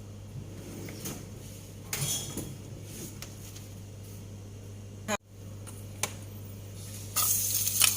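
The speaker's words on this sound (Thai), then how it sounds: "เดี๋ยวปู้จะผัดตัวหอยขมนะคะ แล้วก็ กระชายก่อนค่ะให้หอมๆ" River snails and fingerroot stir-fry in a little oil in a pot over medium heat, giving a quiet steady sizzle with occasional clinks and scrapes of a utensil against the pot.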